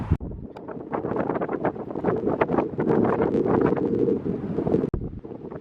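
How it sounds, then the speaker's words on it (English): Strong wind on the Oregon coast buffets the microphone in a continuous rumbling roar, loud and close, with no one speaking. "It's very windy"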